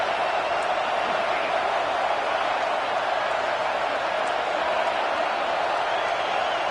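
Stadium crowd noise in an NCAA Football 26 game forms a steady, dense roar that holds at the same loudness throughout, with no breaks or distinct cheers.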